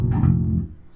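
A bass guitar plays a short riff in fourths for heavy rock, the low notes chunky and sustained for under a second and then fading, heard alone with no talk.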